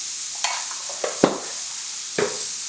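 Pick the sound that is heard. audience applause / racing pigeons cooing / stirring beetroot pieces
stirring beetroot pieces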